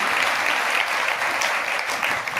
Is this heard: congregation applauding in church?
yes